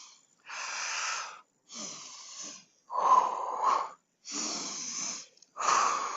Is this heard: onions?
no